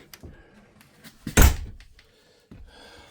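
A door closes with one solid thunk amid a few soft handling clicks and rustles, fairly close in a quiet room.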